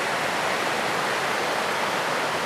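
Jacks River rushing past a wilderness campsite, a steady, broad wash of flowing water that stays constant and fairly soft with no voices.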